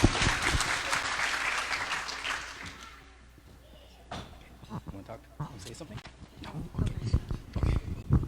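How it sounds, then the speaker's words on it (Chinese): Audience applause fills a hall at a grandfather's 100th birthday celebration after a piano performance, a dense burst of clapping that fades, then scattered claps and voices talking. "我们现在为他们鼓掌。"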